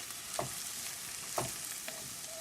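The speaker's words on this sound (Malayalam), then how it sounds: "ജസ്റ്റ് ആ ഒലിവ് ഓയിലിലാണ് കുക്കായി വെച്ചിയെടുക്കുന്നത്" Chopped vegetables fry in olive oil for a vegetable pulao, giving a steady close sizzle with a few louder stirring scrapes at regular intervals and no talking.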